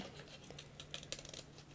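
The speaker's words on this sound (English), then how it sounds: "Sorry, my scissors keep catching there." Quiet, crisp snips of scissors cutting paper crafted with a die, a few short clustered strokes near the end over a faint steady hum.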